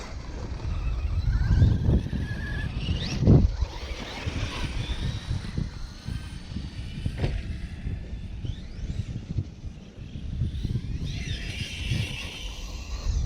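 Arrma Notorious V5 RC car popping wheelies outdoors, its motor whining in rising and falling bursts over steady broadband wind and ground rumble, with brief louder surges around each launch.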